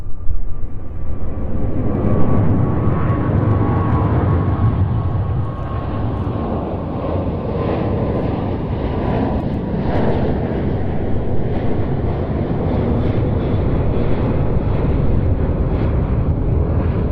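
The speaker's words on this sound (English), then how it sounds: "F-15s flying through the Mach loop" F-15 fighter jets flying low through the Mach Loop valley produce a loud, sustained roar that fills the whole stretch without letup or voices.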